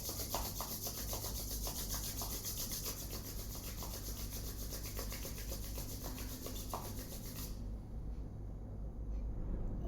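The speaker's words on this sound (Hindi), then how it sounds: "अपने दोनों हाथों को रब करेंगे।" Both palms are rubbed together briskly during a yoga session, a continuous close, dry rubbing swish that stays steady for about eight seconds before stopping abruptly, leaving a low hum.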